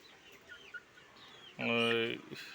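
Chickens and a rooster on a small village poultry farm peck and call: faint scattered sounds, then one loud, brief, harmonic clucking call close by.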